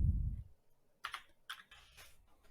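Code being typed on a computer keyboard, a few distinct close keystrokes in quick clusters after a brief low thump, with quiet gaps between.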